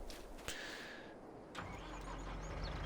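A small tractor engine in Farming Simulator 22 cranks with a couple of sharp clicks, then catches and settles into a low, steady idle rumble.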